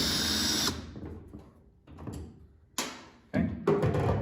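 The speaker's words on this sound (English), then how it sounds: "I have them on a drill here" A power drill with a T25 Torx bit whirs in short bursts removing screws from a Dodge Ram tail light, spinning up loudly, pausing, then running again in two more quick pulses close to the microphone.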